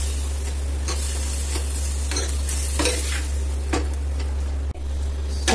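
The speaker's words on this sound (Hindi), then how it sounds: "इसमें कटे हुए टमाटर ऐड करने हैं। और हल्का सा इनको चलाना है, भून लेना है टमाटर को" Chopped tomatoes sizzle and fry steadily in a pan while a spoon stirs and scrapes them, with a constant low hum of a stove or fan underneath.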